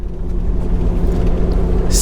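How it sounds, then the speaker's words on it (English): Road traffic passes as a steady, loud low rumble close by, continuous and broadband, with a brief brighter swish at the very end. "That traffic was serious. You heard?"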